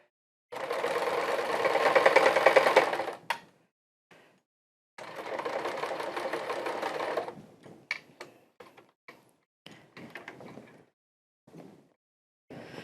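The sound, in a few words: sewing machine stitching leather chaps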